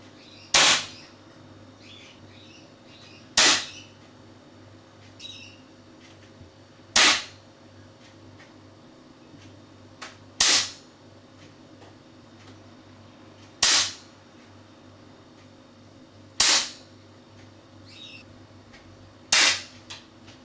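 Seven sharp air rifle shots from a Weihrauch HW air rifle fitted with its standard silencer, each a crisp, fairly loud crack, spaced a few seconds apart with quiet gaps and a little faint birdsong between them.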